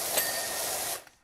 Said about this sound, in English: Totally safe to be spraying down the electrical box, right?